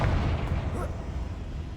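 A Confringo blasting curse goes off in Hogwarts Legacy as a single heavy low boom that rumbles away over about two seconds, with a voice speaking over it.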